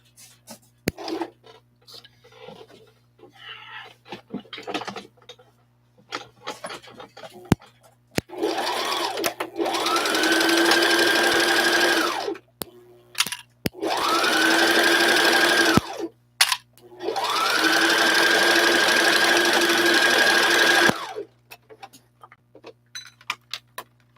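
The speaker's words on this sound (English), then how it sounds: "Usually I only use the sewing machine for clothing and inside parts of the puppet." A sewing machine stitches puppet parts in three steady whirring runs of a few seconds each, separated by short pauses with light clicks and handling noise.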